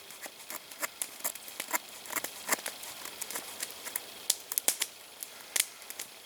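A folding knife shaves curls from small sticks in the woods, giving rapid, irregular crisp scraping and ticking strokes that come close and fairly quiet, without talk.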